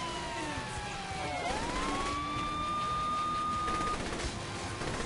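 A police car siren in the video game Saints Row: The Third wails and sweeps in pitch, loud and steady over engine noise, with no talking.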